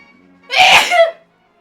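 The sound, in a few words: sneeze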